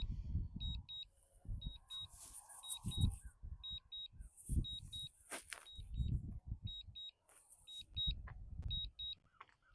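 A drone beeps during its automatic return to home: repeated short, high double beeps sound at a steady rhythm, faint and somewhat distant over wind rumble and light handling noise.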